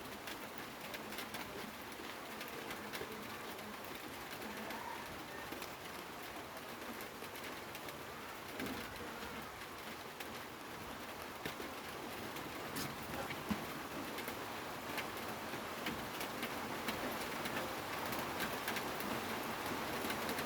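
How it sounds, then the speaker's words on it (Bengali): Heavy rain falls in a continuous, even hiss, faint and distant, with doves cooing now and then beneath it and no talking. "আমার এখানে বৃষ্টি আসছে ভাই, বৃষ্টি জোর জোর বৃষ্টি আসছে"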